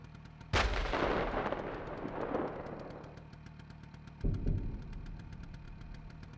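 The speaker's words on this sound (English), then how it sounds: "these tanks up here near the depot are shooting at something" Tanks firing cannons in a military video game, two loud booming blasts a few seconds apart, the first rolling out into a long fading rumble over a steady idling engine drone.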